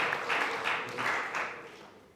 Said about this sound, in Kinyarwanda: izi mpano mwaziha amashyi